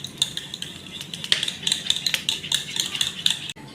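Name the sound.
whisking eggs, sugar and milk together for pudding cake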